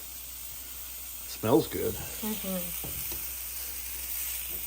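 Homemade wild hog breakfast sausage sizzles in a hot pan, a steady faint hiss running beneath a short remark from a man.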